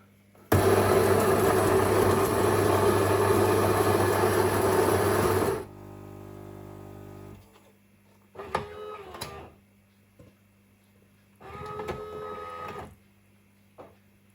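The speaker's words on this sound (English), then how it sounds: "now I'm going to do myself cappuccino, large double shot strong" A Siemens EQ6 automatic coffee machine making a large double-shot cappuccino starts with a loud grinding roar for about five seconds. A quieter pump hum follows, then two separate bursts of hissing and brewing.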